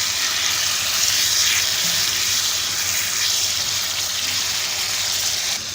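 Marinated beef liver frying on a tawa over medium-low flame, producing a continuous close hiss and crackle of sizzling oil that fades slightly at the very end.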